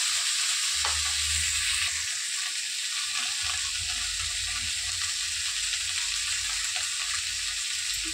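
Soaked sabudana for khichdi fries in a pan with a steady, close sizzling hiss and faint stirring, no voices over it.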